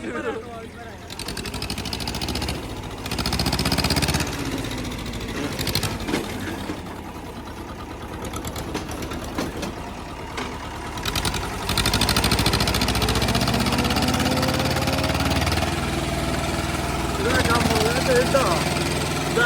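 A mid-pitched tractor engine rumbles and idles steadily, rising and falling in level, with someone talking over it.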